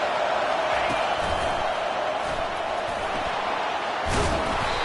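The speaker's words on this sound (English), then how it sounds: "This crowd bringing the energy and noise early." A large stadium crowd at a college football game roars in a dense, steady wash of noise, with a few thumps and a brief swell near the end.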